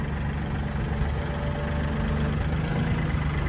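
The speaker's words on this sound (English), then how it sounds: "we're going to raise our loader" A Massey Ferguson 1835M 36 hp compact utility tractor idles steadily as its loader is raised, a close, continuous low diesel rumble with no voices.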